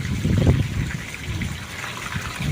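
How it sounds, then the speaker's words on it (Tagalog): Water gushing out of a central water heater during replacement, a steady splashing rush of liquid close by. "Yan guys, yan ang tubig. Yun ang laman sa central water heater."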